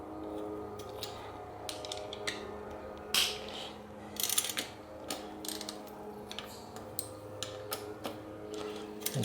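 A ratchet clicks while a nut is tightened on a bicycle bottom bracket, with irregular close metallic ticks and pawl clicks over a faint hum.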